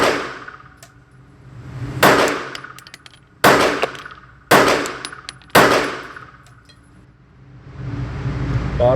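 Five loud pistol shots fired at a quicker cadence from a Tanfoglio Stock3 or Bul Armory SAS2 Viper with red dot, each a sharp crack with a ringing tail, spaced roughly a second apart over a low background hum.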